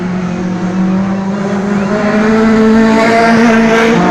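A Hyundai i20 Coupe N1 race car from the Hyundai Racing Trophy one-make series revs hard close by, with its engine whine climbing steadily and tires squealing.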